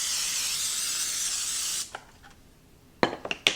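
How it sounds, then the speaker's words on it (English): Cooking spray from an aerosol can hisses steadily for nearly two seconds onto the bottom of a baking dish for a strawberry pretzel salad dessert, close and loud, then a few light clinks of the dish and can follow. "take some cooking spray and just lightly spray the bottom of our dish"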